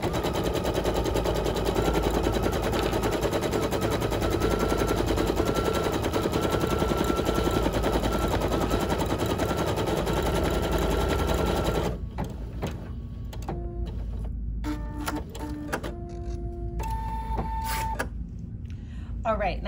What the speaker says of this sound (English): It's time to stitch that body tack down portion.